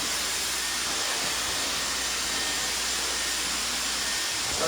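A hair dryer blasts damp hair during a short layered haircut, giving a continuous loud, even airy roar with no pauses throughout.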